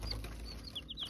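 Chicks in a brooder box, a few thin high peeps scattered over a low steady hum, close and fairly soft, no voices.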